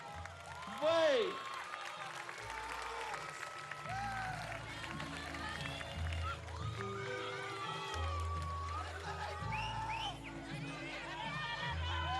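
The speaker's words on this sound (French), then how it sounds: "Vous pouvez continuer à applaudir." Crowd applause and cheering at the Miss Tahiti 2008 pageant, with a continuous wash of clapping and crowd noise under music with steady low drumming, a whoop near the start, and voices heard throughout.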